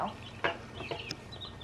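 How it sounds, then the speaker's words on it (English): Backyard chickens cluck over mealworm treats, with a few soft, scattered clucks and calls at moderate distance over faint outdoor background noise. "Today we're going to be giving a worm to chickens."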